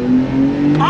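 A Porsche 911 Turbo with a PDK transmission accelerates on throttle, its engine note rising steadily in a loud, close, continuous rev over the short span.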